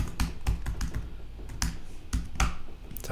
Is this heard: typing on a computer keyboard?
yes